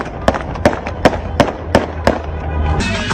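Fireworks bang in a regular series of sharp, loud bursts about every half second, echoing outdoors over background noise, at a torch-lit send-off celebration for a soldier.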